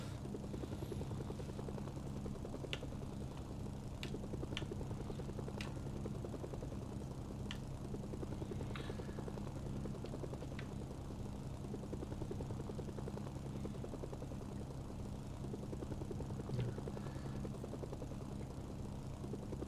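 A helicopter in the video game Mercenaries 2 drones steadily with a continuous rotor hum, a few faint clicks over it, and no talk.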